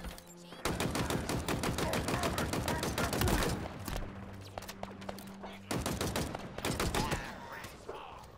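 Rapid automatic gunfire in Halo Infinite, long loud bursts of fast repeated shots with short pauses between volleys.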